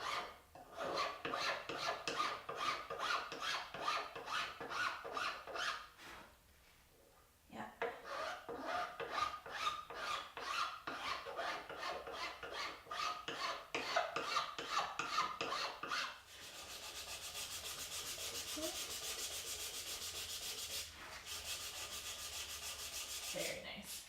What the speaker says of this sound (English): so I'm going to switch to the file.